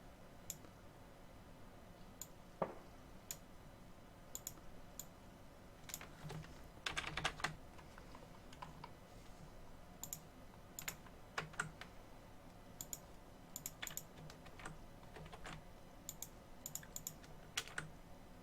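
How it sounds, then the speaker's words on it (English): Typing on a computer keyboard during a livestream produces quiet, irregular bursts of key clicks with short pauses and a brief denser flurry, heard faintly and close with no one talking. "The typing is real."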